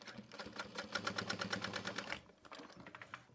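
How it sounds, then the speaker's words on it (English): A sewing machine stitches a tote bag in a quick, even run of needle clatter for about two seconds, then slows to a few softer stitches, close and fairly quiet, with no talking. "But I am gonna sew it"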